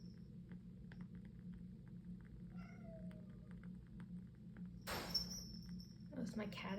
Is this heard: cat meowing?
yes